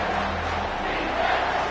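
College football stadium crowd roaring for the defense on a big third down in a Nebraska versus Texas A&M game, a broad, steady wash of distant cheering.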